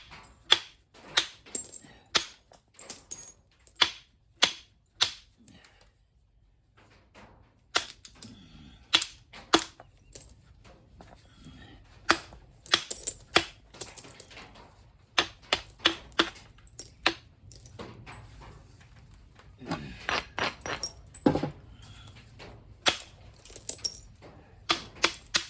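Stone being knapped into a preform or biface, sharp clicking strikes scattered irregularly, sometimes in quick runs and sometimes spaced out, close and fairly quiet over a soft background.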